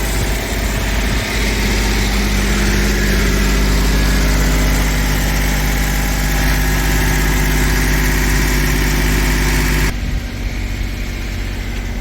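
A freshly rebuilt Toyota 3VZE V6 in a 1992 pickup runs at a held 2000 RPM during break-in, a loud, steady, close drone that drops off sharply near the end.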